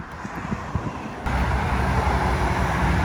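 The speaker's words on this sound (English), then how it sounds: "I just don't like the noise, auto noise. Cars driving by." Cars rush past on a busy highway in Clearwater, Florida, heard from a nearby walking trail: a continuous roadway roar that swells louder midway as vehicles pass closer, with no voices.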